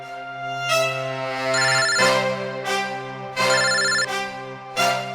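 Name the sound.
mobile phone ringtone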